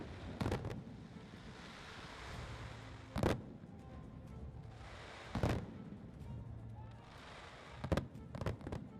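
Fireworks celebrating India's Hero Asia Cup hockey victory over Korea burst in loud sharp bangs at irregular intervals, some in quick clusters, over steady wind and crowd rumble outdoors at a stadium.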